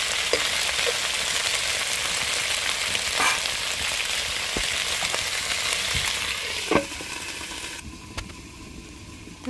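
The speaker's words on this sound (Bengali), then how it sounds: "গরম তেলে শিম আলুটা প্রথমে 5 মিনিটের মতো ভেজে নেব" Cut flat beans and potatoes fry in hot oil with a dense, continuous crackling sizzle close by. A few sharp stirring knocks break in, and near the end the sizzle suddenly drops away.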